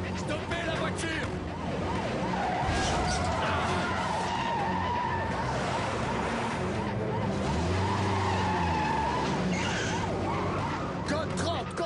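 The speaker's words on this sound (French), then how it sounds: "Je suis à la poursuite d'un 4x4 noir." Tires squeal and skid as a black 4x4 is chased by police cars, loud sustained screeching with engine roar and siren-like tones, mixed with brief speech in an action-film scene.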